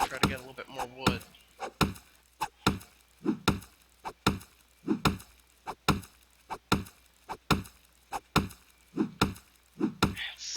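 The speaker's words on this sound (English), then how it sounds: "It's such a pain chopping down trees with such a pathetic axe" Trees are chopped with a weak axe in the survival game 7 Days To Die, giving a steady series of loud, sharp wooden thwacks about every half second, with no talk over them.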